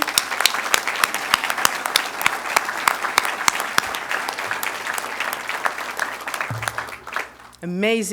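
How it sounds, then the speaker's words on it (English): Audience applause for students at a mechatronics lab grand opening, a dense steady clapping that carries for most of the stretch before fading near the end, where a voice briefly begins speaking. "One round of applause for those amazing"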